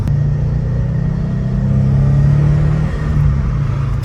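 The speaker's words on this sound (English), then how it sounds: "Turbo noises, you can finally hear the turbo." A 2019 Subaru WRX STI engine with Invidia exhaust and Cobb tune rumbles steadily while revving, with a faint turbo whine riding over the low drone.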